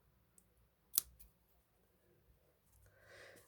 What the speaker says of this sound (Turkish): Kesiyorum düğümü.